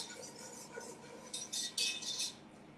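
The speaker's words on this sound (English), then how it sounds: "we're going to sprinkle in our flour, and we're going to whisk this up" A whisk beats flour into a pan in a short run of quick metallic strokes, quiet at first and then louder clinks near the end, with no talking.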